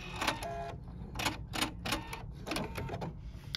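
Husqvarna Viking Epic 2 sewing machine stitching fabric, a fast whirring needle in several short bursts separated by brief pauses, close and fairly quiet.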